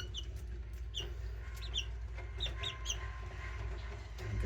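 Young chicks and chickens of a gamefowl flock cheep in short high peeps over a low, steady background rumble, with soft clucking nearby.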